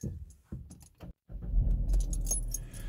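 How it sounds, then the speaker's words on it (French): Keys jangle and rattle in the ignition of a Citroën DS4, followed after a brief pause by the engine starting up and settling into a low, steady idle close by. "Donc je vais démarrer la voiture."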